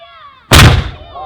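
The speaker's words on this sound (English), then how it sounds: "occasionally Napoleonic artillery" Napoleonic artillery cannon firing at a historical reenactment show, a single loud nearby blast with a sharp onset and a rumbling decay that trails off over a second.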